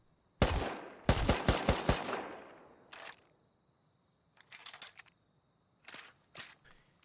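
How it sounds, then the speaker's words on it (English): Gunfire in the video game Rust: a burst of rapid shots, then a few spaced mechanical clicks and clacks as the weapon reloads and is stowed, fairly quiet with gaps of silence and no talk. "MICRØ, would you like to shoot, reload, and then put it on your back"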